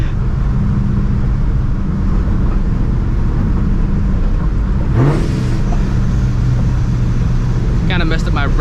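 A supercharged 1999-2004 Mustang GT engine drones loudly from inside the car under load, with a shift and a rising whine partway through, while a person talks over it.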